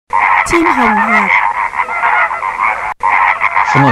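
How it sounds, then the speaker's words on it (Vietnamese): Flamingos call loudly and continuously, a dense mix of honking and gabbling voices with a few rising and falling squawks, broken by one short gap. "Flamingo."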